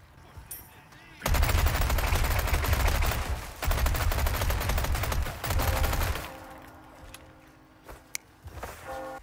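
A Chicago Sweeper, a Thompson submachine gun, in the Resident Evil 4 Remake game fires in two long, loud bursts of rapid automatic fire. Quieter handling sounds and a faint click follow afterward.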